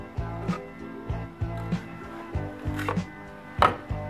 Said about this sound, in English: we take our handy spatula and we just cut the excess